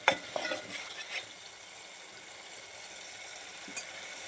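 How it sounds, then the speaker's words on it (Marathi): Onion and tomato frying in oil in a pan, a few clinks of a stirring spoon at the start, then a steady soft sizzle with no talk. "चांगल्या पद्धतीने आपण हे कांदा आणि टोमॅटो भाजून घेतलेले आहे तेल सुटेपर्यंत."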